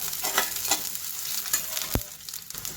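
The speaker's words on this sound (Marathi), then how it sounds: "एक छोटा कांदा घेतलाय तो आपण या तेलात परतून घेऊया" A small onion sautéing in hot oil in a pan, giving a steady close sizzle with brief stirring scrapes and one sharp clatter near the end.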